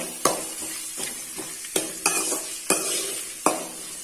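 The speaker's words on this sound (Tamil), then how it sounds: "மீடியம் சைஸ் வெங்காயம் போட்டிருக்கேன் நைஸா கட் பண்ணி போட்டிருக்கேன் இதை நல்லா வதக்கி விட்டுறலாம்" Thinly sliced medium onions with bay leaf, cloves, cardamom and cinnamon sizzling in oil for parotta kurma, broken by sharp, repeated clacks of a spoon stirring against the pan, close up and without speech.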